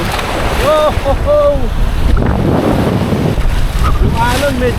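Strong sea waves slap and rush against a small boat on the crossing to Sumilon Island off Oslob, Cebu, with heavy wind buffeting the microphone and people talking and exclaiming over the noise.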